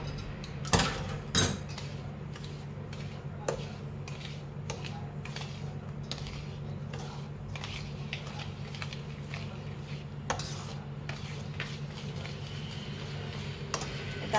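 A spoon stirs semolina batter in a bowl, giving a steady run of light metallic clinks and scrapes with a few sharper knocks near the start, close and alone.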